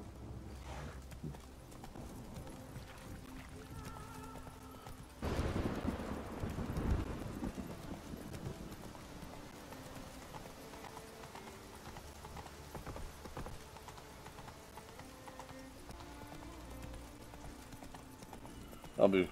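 Horse hooves clip-clop at a steady walking rhythm in The Witcher 3: Wild Hunt, with a whinny and a brief rushing burst midway, while a person talks over the game sounds.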